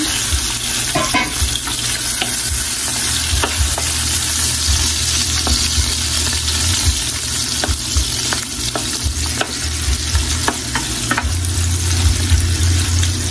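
Shrimp frying in a pan, a loud continuous sizzle with frequent crackles and scraping stir sounds, close and steady for the whole stretch.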